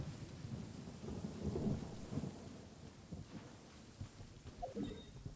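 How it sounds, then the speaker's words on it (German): Thunder rolls with deep rumbles over steady falling rain in the Sumeru region of the video game Genshin Impact, a low, distant swell with a few heavier bursts and no voices. "dass in Sumeru der Regen dynamisch ist"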